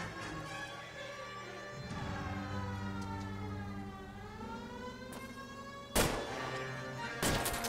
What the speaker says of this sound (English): Plus, I got the police siren on, so yeah.